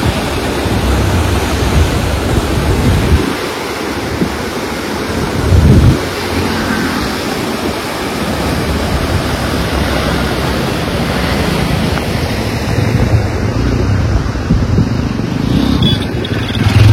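Fast river water rushes loudly and steadily beneath the old bridge at Dandeli, a dense, continuous roar close by with no voices.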